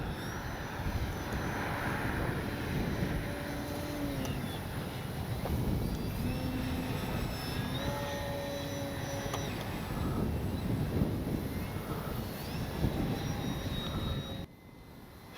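A HobbyZone Carbon Cub S2 RC plane flies in strong wind. Its electric motor buzzes at a distance with a wavering pitch under constant heavy wind buffeting, and everything drops sharply quieter near the end.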